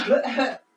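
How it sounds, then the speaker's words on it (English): A short, breathy cough or throat-clearing burst, close and fairly loud, ending abruptly into silence. "you can cough a little"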